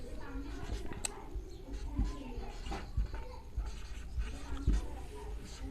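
Marker strokes squeak and scratch across a board as a maths problem is written out, a steady run of close scribbling and taps with faint voices in the background.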